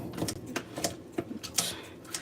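Scissors snip food inside a bowl in a home kitchen, giving a quiet run of sharp, irregular clicks and crunchy cuts repeating every half second or so, with no talk.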